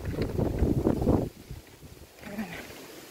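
Gusty wind buffets the microphone on a Swiss hilltop beside a ruined castle. There is heavy low rumbling for about a second, then it eases to a softer rush and picks up again.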